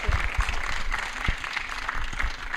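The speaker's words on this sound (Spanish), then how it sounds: "Fuerte aplauso muy grande, como se lo merece la doctora" An audience at a lecture applauds the speaker, a full, sustained round of many hands clapping together that fills the hall evenly, with a few sharper claps standing out near the front.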